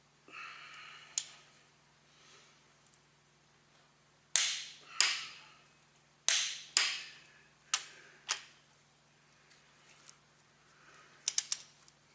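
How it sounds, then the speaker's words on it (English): Torque wrench clicking while head bolts are torqued on a Freightliner DD15 engine, sharp metallic clicks in spaced bursts, some single and some doubled, loud and close in a quiet shop. "we're going to start torquing to 185"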